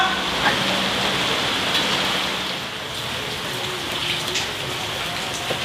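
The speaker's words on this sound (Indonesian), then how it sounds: "Hujan be ieu mah." Steady rain hisses and patters on a surface, a continuous moderate wash with occasional distinct drops and no voices.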